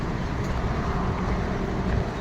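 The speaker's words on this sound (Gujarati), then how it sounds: "જીએસટીની બસ આવે છે." A GSRTC bus, on a Halol to Surat Udhna route, pulls into a roadside stop near a hotel with a continuous low engine rumble and road noise that swells slightly as it arrives.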